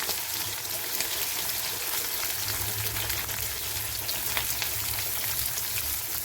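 Onions fry in a pan for a chicken dish, giving a steady close hiss and crackle with light stirring sounds underneath and no talk.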